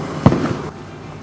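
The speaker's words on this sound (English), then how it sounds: "you may have just heard something that sounded a lot like a gunshot" A single short, muffled boom from a bird-scaring cannon at an Alberta oil sands mine, heard at a distance with a brief rumbling tail against steady background noise.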